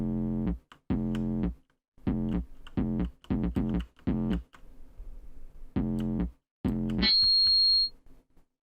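Sharp bursts of repeated tones end in a piercing, sustained high-pitched ring of audio feedback that holds for about a second before cutting off.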